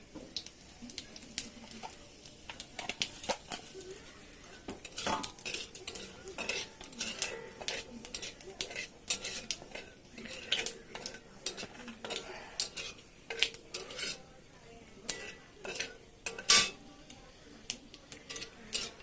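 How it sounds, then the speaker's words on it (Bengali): Cumin seeds sizzle and fry in a pan while a metal spoon stirs and clinks against it, a string of sharp scraping taps running over a low frying hiss during home cooking of paneer masala. "জিরাটা আমার ভাজা হয়ে গেছে"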